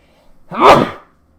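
A single loud sneeze, close and abrupt, preceded by a brief inhale, then quiet.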